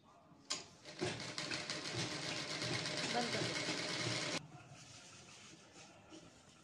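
An electric sewing machine runs in one steady burst of several seconds, stitching a strip onto the straight side of a Pathani kurta at half an inch, then stops and leaves low background hum.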